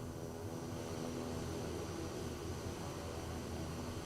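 Kodiak 100 propeller aircraft engine in Microsoft Flight Simulator, a steady, continuous drone with broadband roar and a low tonal hum, unchanging in level throughout with no voices.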